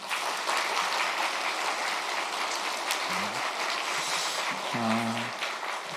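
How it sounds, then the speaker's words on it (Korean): A church congregation gives sustained applause after a testimony and performance at a Sunday service, a dense crowd of clapping that stays even throughout, with a few faint low tones from instruments or voices partway through. "한번 박수 한번 하겠습니다"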